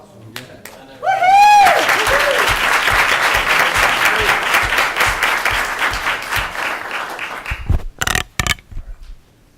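A school board meeting audience bursts into loud applause and cheering, dense clapping that holds steady then tapers, with a voice speaking briefly before it starts and another coming in as it fades.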